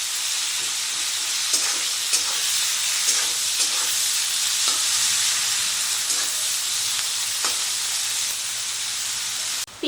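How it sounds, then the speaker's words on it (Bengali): Chopped onion frying in a pan until reddish-brown, a steady dense sizzle with occasional stirring scrapes and ticks, close and fairly loud, no voices. "পেঁয়াজটাকে বেশ লাল করে ভেজে নেব"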